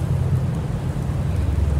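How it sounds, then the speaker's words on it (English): Rain during a thunderstorm: a steady, loud wash of rainfall over a deep, continuous rumble, with no voices. "there was a rain and storm"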